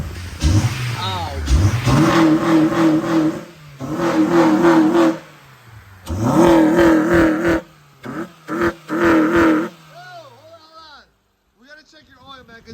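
A Honda CR-V engine cranks and fires after a starter replacement, revving loudly in several surges with pauses between, while someone talks and exclaims nearby.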